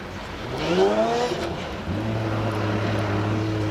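Race cars in an ice-racing time trial at the Trophée Andros in Andorra, with a loud engine rising in pitch as it accelerates past, then a steady droning engine note holding close.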